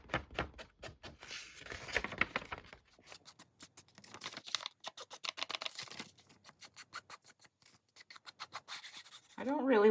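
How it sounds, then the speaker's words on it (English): Black Soot ink pad rubbed along the paper edges of an envelope pocket trim, making close, rhythmic dry scratchy strokes that speed up and pause in bursts. "So I'm going to ink this up all the way around with this Black"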